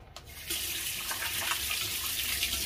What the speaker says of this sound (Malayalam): പിന്നെ നമുക്ക് വെള്ളം ഒഴിച്ചൊന്ന് കഴുകാം